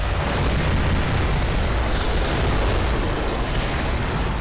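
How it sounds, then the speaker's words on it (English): Bombs exploding close by in the game Black Mesa, a continuous heavy low rumbling roar of blasts that stays loud and dense throughout, with a brief burst of brighter debris crackle midway. "Why are they dropping all this bomb, man?"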